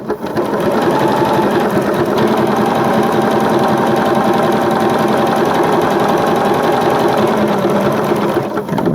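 A sewing machine runs steadily for several seconds while stitching a zigzag applique, a continuous close, loud whirring and rapid needle clatter without pauses.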